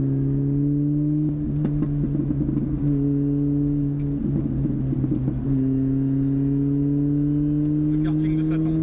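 A Mini Cooper GP R53 engine pulls hard under acceleration, a sustained close, loud drone climbing steadily in pitch with brief shifts, while people talk inside the car.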